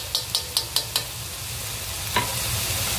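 Spicy bean paste and sugar stir-fry in a hot pan, five quick evenly spaced spatula taps against the pan over a steady close sizzle, then one more scrape as the frying hiss continues alone.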